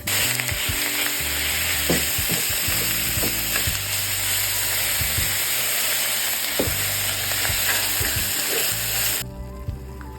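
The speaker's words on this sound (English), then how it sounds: "so I can go ahead and brown my beef" Lean beef browning in a hot pan beside pushed-aside onions, a loud continuous sizzle broken by repeated scraping and stirring knocks of a utensil, close up, ending abruptly near the close.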